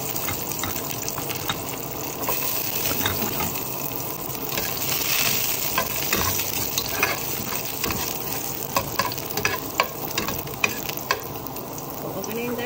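Onions sautéing in a pan for pork pata paksiw with bamboo shoots give a steady sizzle mixed with stirring and some watery splashing, at moderate loudness, with no talking.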